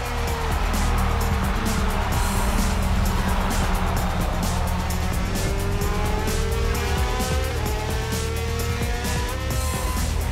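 Race car lapping the Zandvoort circuit, a continuous loud engine howl with rising and falling pitch through gear changes, faint tire noise, no talk.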